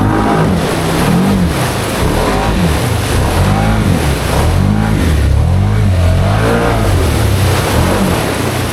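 Can-Am Outlander XMR 850 ATV on Aztex tires revving hard through silty mud, a loud continuous engine roar with rising and falling pitch sweeps close by.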